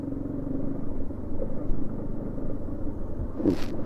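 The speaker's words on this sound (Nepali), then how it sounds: "तर केटोले जे होस् बाइक चाहिँ कुदाउँछ के" A motorcycle rumbles along a muddy village road, its engine a steady low drone close by, with a short clatter near the end.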